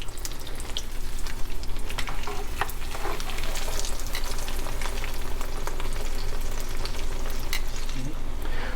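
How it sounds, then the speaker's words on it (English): Breaded eggplant slices fry in a fryer with a dense, steady crackling sizzle that holds loud and close throughout, no voices. "put it in the fryer and just repeat"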